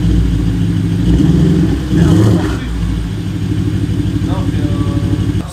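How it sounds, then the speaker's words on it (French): A V8 car engine with downpipes and its silencer removed idles after a cold start, a loud steady low rumble running throughout, with people talking over it. "le cold start il est horrible, mais sinon au ralenti ça va"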